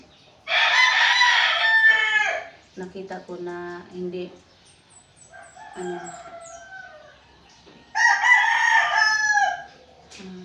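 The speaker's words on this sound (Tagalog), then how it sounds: "pasensya na po yung mga tunog ng mga manok" Roosters crowing repeatedly nearby, long drawn-out calls with a few short clucks between, and a person speaking briefly in the middle.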